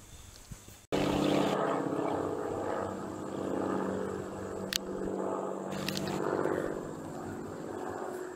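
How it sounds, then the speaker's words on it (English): A propeller airplane passes overhead, its steady engine drone loud and sustained across the sky after a brief gap, with outdoor background noise. "Plane just flew by. Not that one with the motor you could hear."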